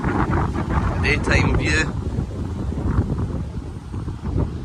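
Strong wind buffeting at Lumley Castle in County Durham in December, a loud continuous rumbling gusting roar across the microphone while a person talks over it.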